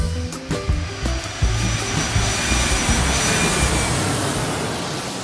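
An airplane taking off as a sound effect, the engine roar building from a low rumble into a loud, broad, sustained jet-like wash that holds steady to the end, no voices.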